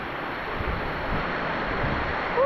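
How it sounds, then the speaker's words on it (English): Rushing water from a waterfall on Java, Indonesia, a loud continuous broadband roar close to the microphone with wind buffeting and no talk. "It's almost like we're underneath a waterfall."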